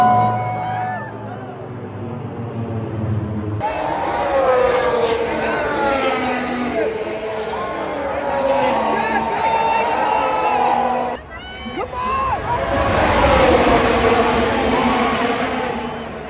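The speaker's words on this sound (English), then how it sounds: "The whole crowd is starting to get pretty lit every time Checo like" Large crowd cheering and shouting loudly and continuously at a Formula 1 Grand Prix as the cars pass by, swelling in waves with whoops and talk mixed in.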